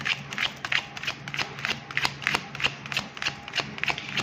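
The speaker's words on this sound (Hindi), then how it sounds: "चलिए अब मैं कार्ड शफल करने जा रही हूँ और देखती हूँ कि क्या आ रहा है आपके उनके एनर्जी में।" Tarot cards being shuffled by hand, a quick run of close, crisp riffling snaps repeating in a steady rhythm, alone without speech.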